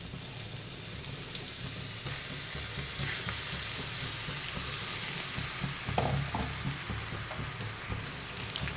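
Ground herbal paste sizzles in hot coconut oil in a pan while a homemade hair oil is being made. The frying crackles continuously at a close, moderate level with a few stirring bumps, and there is no talk.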